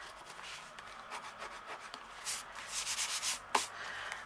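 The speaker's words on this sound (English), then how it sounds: "And give that a good burnish." A paper flap on a handmade mini album is burnished by hand, giving soft, close, repeated rubbing and scraping strokes that build steadily and end with a small tap.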